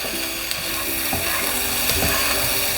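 Tomatoes sizzle loudly in hot oil with spiced chicken gizzard and liver, a constant fry with the scrape of stirring running through it and no talking.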